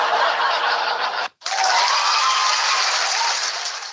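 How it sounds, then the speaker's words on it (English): Canned applause sound effect played during a live-streamed tutorial: a dense, loud wash of crowd clapping with faint laughter, cut off by a brief silence just past one second, then resuming steadily to the end. "Cheers, clap, and laugh."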